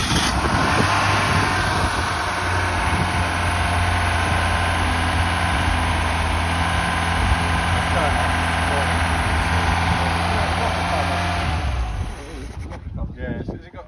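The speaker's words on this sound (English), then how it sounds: "Well, that was idling." An old car engine idles after 33 years off the road, a steady low rumble running close and loud for about twelve seconds before cutting out, followed by some handling noise.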